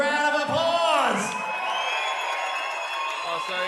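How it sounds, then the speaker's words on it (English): Crowd at a live combat show whooping and cheering, loud shouts and sustained voices rising and falling close by, with light clapping beneath the yelling. "Big round of applause."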